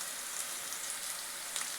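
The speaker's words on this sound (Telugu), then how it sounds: "ఫ్రై చేసుకోవాలా" Spices, turmeric and green chillies fry in a pan of hot oil for idli upma, a steady, faint, close sizzle with fine crackling pops and no voices.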